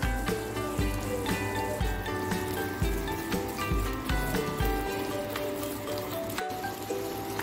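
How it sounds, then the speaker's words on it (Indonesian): Spiced sauce for tilapia gets stirred in a pan, with soft scraping strokes and a gentle sizzle repeating in a steady rhythm, close by and fairly quiet. "Kita aduk biar rata."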